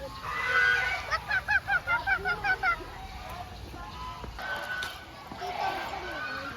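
Geese or ducks honking at a zoo, a rapid run of loud repeated calls followed by scattered quieter honks, with people talking nearby.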